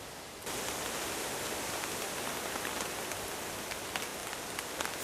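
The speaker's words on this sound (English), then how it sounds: "the rain starts. Yeah! It's raining again." Steady rain falls on an autumn canoe campsite, a dense even hiss of drops with occasional louder patters close by, starting abruptly after a brief quieter moment and continuing alone without voices.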